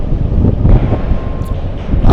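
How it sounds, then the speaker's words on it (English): Wind blows across a Las Vegas stadium construction site, a steady low rumble of gusts buffeting the microphone throughout, loud and close with no talk. "as you can hear, the wind is picking up"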